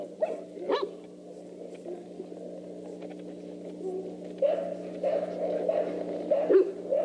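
A small dog barks outdoors in a 1995 yard, a few sharp yips early and a busier stretch later, heard over a steady low hum with faint background voices.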